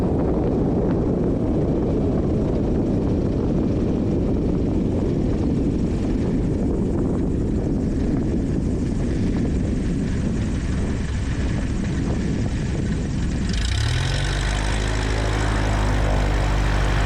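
A Carbon Cub light aircraft makes a three-point landing on a short runway, its propeller engine droning steadily and close, then shifting abruptly in pitch and tone near the end, with no talk.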